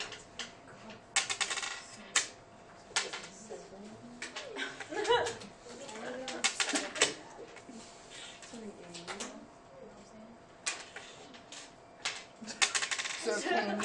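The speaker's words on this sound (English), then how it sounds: "I still hear lots of coins" Many coins clink and drop in rapid bursts during a simulation game, bright metallic jingles scattered over about fourteen seconds alongside soft background sounds.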